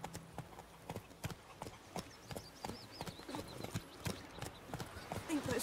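Roach the horse galloping in The Witcher 3 video game: rapid, rhythmic hoofbeats clip-clopping steadily at close range, with faint game voices and ambience underneath.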